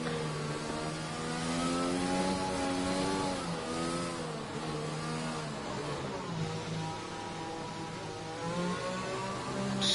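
Several racing cars on a formation lap in an F1 league video game round at Azerbaijan, engines holding a steady, layered mid-pitched drone with gentle revs rising and falling, loud and continuous with no talking.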